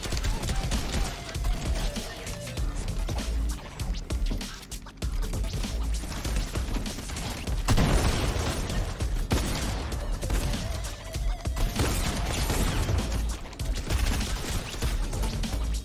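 Sustained, dense minigun fire in a Team Rumble video game match, a continuous loud rattling barrage running almost the whole stretch with only brief dips.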